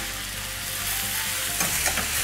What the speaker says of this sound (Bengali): গরম হয়ে গেছে, দিয়ে দেব অল্প কালো জিরে, কাঁচা লঙ্কা, হলুদ গুঁড়ো